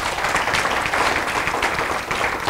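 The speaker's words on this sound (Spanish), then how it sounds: "denle un aplauso al Señor" Congregation in a Spanish-language church service applauding, a steady, dense wash of clapping that fills the whole stretch without letting up.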